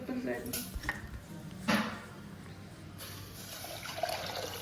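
Water is poured into a pot of mixed lentils, a quiet steady splashing stream that starts partway through after a few faint knocks and clatters.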